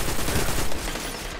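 Gunfire in a Destiny 2 Trials of Osiris match fills a brief, dense, loud burst of rapid shots with no gaps.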